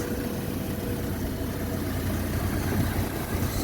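The small four-cylinder engine of a 2001 Chevy S10 idles steadily, with a low, even rumble and hum close by that holds for the whole stretch, with no speech.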